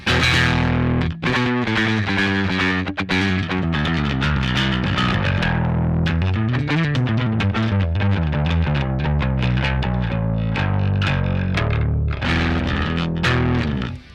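A heavily distorted electric bass played through an EBS preamp pedal plays a loud, gritty riff of sustained notes and slides, close and continuous, with no voices.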